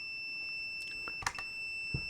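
A multimeter's continuity check on an automotive fuse gives a sustained high beep that never breaks, overlaid by a few sharp clicks and taps from the probes, without speech.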